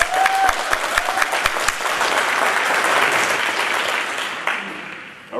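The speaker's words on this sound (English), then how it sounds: "Everybody clap it up for Jeremiah." An audience at a motivational event applauds loudly and steadily, with dense clapping that swells and holds, then tapers off near the end.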